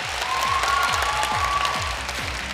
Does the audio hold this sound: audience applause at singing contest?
yes